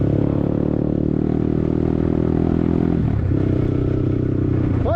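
A BTC T18 dirt motorcycle engine runs loud and close at a steady idle-like drone, with a brief shift in tone near the end, alone without talk.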